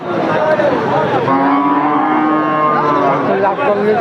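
Cattle at a livestock market in Chaugachha, Jessore, moo loudly and continuously, with long sustained lowing calls close by over a busy background.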